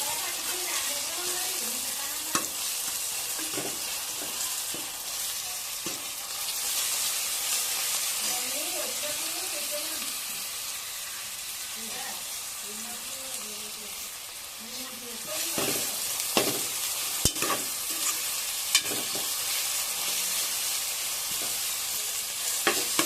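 Mutton cooks in oil with ginger garlic paste, producing a steady broad sizzle with occasional stirring clinks, while a voice talks faintly underneath at times.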